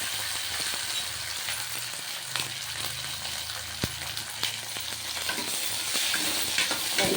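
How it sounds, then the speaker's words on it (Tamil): Tomato and curry leaves sauté in a pan with a steady, bright sizzle, punctuated by occasional sharp spatters and stirring that swells slightly louder toward the end. "தக்காளி, அது கொஞ்சம் வதங்கட்டும். அது கூட கருவேப்பிலை போட்டுருவோம்."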